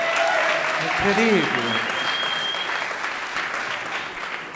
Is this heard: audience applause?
yes